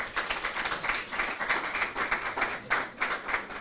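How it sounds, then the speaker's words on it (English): An audience applauds at a launch event, with dense, steady clapping from many hands filling the room for a few seconds. "Please, another round of applause."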